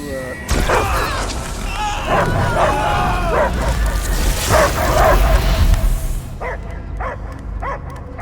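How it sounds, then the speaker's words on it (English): A dog barks repeatedly amid dramatic game-style sounds and voices talking in Marvel's Guardians of the Galaxy, with a few sharp, isolated barks near the end. "I hear only barking."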